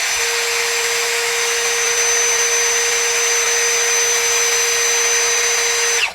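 An APR AP34+ cordless impact drill runs continuously at its second speed setting, a loud, steady high-pitched whine holding constant for about six seconds before cutting off abruptly.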